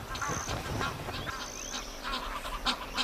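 Several Egyptian geese give loud, rasping honks in quick succession, close by at a lagoon, with a brief burst of lower gabbling at the start.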